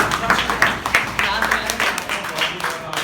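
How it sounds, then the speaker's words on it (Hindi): Applause for schoolchildren in a classroom, a burst of claps rising and holding at moderate loudness across the short span, with voices mixed in. "जोरदार तालियां इन बच्चों के लिए।"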